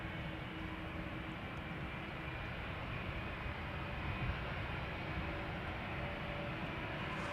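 A business jet passes at an airport as a steady, distant engine roar, faint and continuous with no voices.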